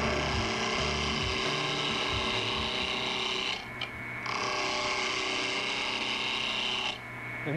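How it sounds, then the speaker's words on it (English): Wood lathe tool cutting into a spinning wooden blank that is not yet round, giving a rough, bouncing scraping chatter with two short pauses, fairly quiet and steady. "Here you can see how the tool bounces because it's not down to a cylinder yet"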